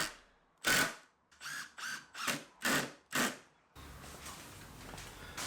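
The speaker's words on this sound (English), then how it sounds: "drive in some of the 100mm screws" A power driver sinks 100mm screws into CLS 3x2 timber while a garden coffee table is assembled, giving about six short, loud whirring bursts with ratcheting stops, then a steadier low whir, close by and with no talking.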